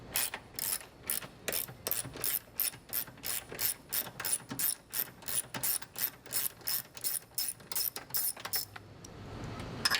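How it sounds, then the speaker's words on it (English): Basic ratchet with a 13mm socket loosening the single bolt that holds the PCM to the strut tower brace on a Dodge Charger or Chrysler 300, producing a loud, steady run of rapid clicking bursts in even rhythm, close up and alone. "Using a 13mm socket and a basic ratchet, you want to remove the one bolt that is holding the PCM to the strut tower brace"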